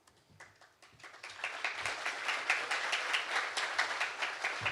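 Audience applause at Supercon 2024, starting as scattered claps and building into steady, dense clapping from a crowd in a hall, continuing loudly to the end with no speech.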